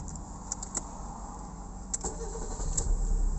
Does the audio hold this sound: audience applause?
no